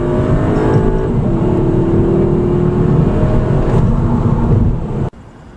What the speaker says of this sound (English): when you put your foot down on the throttle and that turbo kicks in